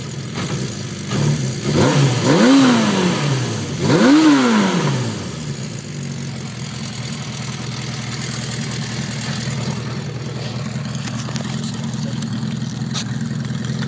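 A 1980 Honda CB650C motorcycle engine cranks and catches without choke, revving sharply twice in rising-and-falling bursts before settling into a steady, close idle.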